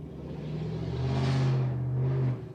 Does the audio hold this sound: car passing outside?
yes